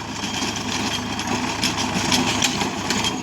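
Steady, fairly quiet engine drone of a Sonalika tractor working a 5.5-quintal rotavator, a continuous rumble with faint clattering throughout and no voices.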